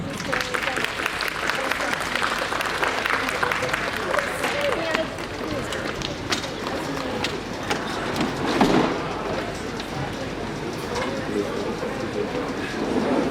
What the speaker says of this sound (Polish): Gorące brawa, proszę państwa.